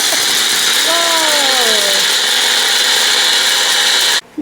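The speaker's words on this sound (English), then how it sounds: "gonna be grinding first the black pepper so it can be nice and fine" A Magic Bullet blender grinds black pepper with a loud, steady high-pitched motor whine that runs continuously and then cuts off abruptly near the end, with a voice briefly audible over it.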